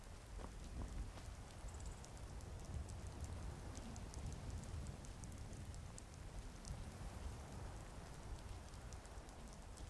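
Steady rain falls in the video game Skyrim, a constant even hiss of drops with no breaks and no voices.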